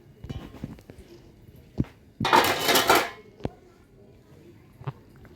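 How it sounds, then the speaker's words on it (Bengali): A pan of hilsa fish curry is stirred, giving a burst of loud scraping and sizzling clatter lasting about a second, with scattered softer utensil clinks and taps before and after. "এবার এই নাড়ছি, নেড়ে নিয়ে তারপরে এবার একটুখানি আমি ঢেকে দেব 5 মিনিট"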